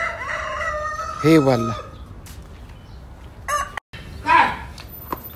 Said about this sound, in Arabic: يصقع الديك